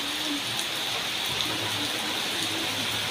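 Steady rain falls in a village, a dense, even hiss of drops that continues without a break, with no voices over it.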